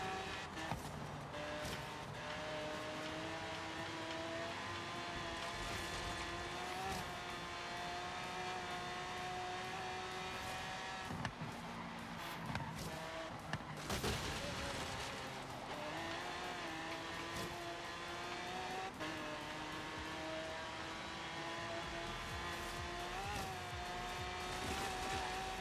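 Ford Mustang engine in Forza Horizon 3, a steady loud game engine drone with shifting revs throughout, tire squeals and skids breaking in now and then.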